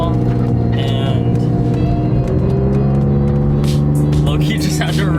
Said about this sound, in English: Something is popping behind me, some kind of car.